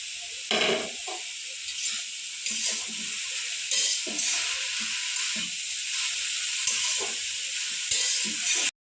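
Amaranth greens stir-fry in a pan with salt, turmeric and sugar, giving a steady close sizzle with scraping stirs and soft bumps throughout, ending abruptly.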